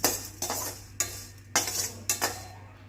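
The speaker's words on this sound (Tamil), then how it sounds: "ஒரு 1 நிமிஷத்துக்கு இதை வந்து ட்ரையாக வதக்கிக்கலாம்" A metal spoon scraping and clinking in a pan while ingredients for Chettinad bitter gourd tamarind curry are dry-sautéed, with four or five sharp stirring strokes at a close, fairly steady pace and no talking.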